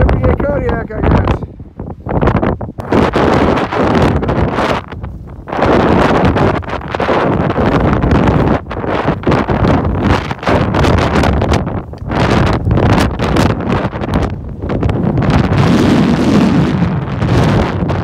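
Loud, sustained wind buffeting the microphone in heavy roaring waves on a Kodiak mountain ridge, with people talking intermittently beneath the noise.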